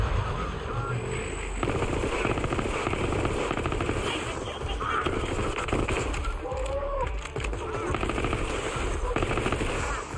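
Rapid, continuous automatic gunfire from a high fire-rate weapon in Borderlands 3, fighting the Troy Calypso boss. It stays loud and dense throughout, with game effects layered over it.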